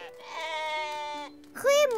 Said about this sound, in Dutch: Hebben jullie schapen voor ons gekocht?